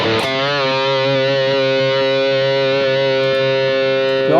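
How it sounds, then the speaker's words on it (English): An electric guitar runs through a distortion pedal on a Hotone Ampero 2 Stage multi-effects unit, a single sustained distorted chord ringing loud and steady with a brief pick attack at the start and a slight swell at the end. "I bet this would be a distortion pedal for leads"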